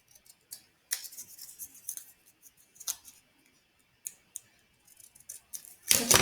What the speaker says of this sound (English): and now I'm going to cut it out.